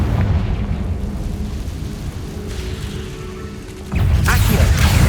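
A Confringo fire spell explodes in Hogwarts Legacy, a loud booming burst with mechanical creaks and rumble, swelling sharply near the end over continuous game noise.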